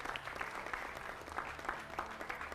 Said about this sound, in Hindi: जोरदार तालियों से इनका भी स्वागत